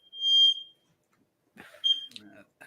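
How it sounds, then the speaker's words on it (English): A smoke alarm set off by incense gives two short, piercing high beeps separated by a pause, with a person speaking briefly right after the second beep. "That's my smoke alarm."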